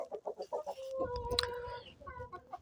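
Domestic chickens cluck and squawk close by in a short burst of fowl calls, with one louder drawn-out cry in the middle and quieter clucks trailing after.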